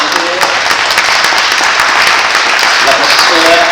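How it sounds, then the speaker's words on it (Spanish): Loud, continuous applause fills a hall at a book launch, with a steady roar of clapping from a large audience and a voice faintly heard speaking beneath it. "Yo creo que por lo menos redondemos un aplauso"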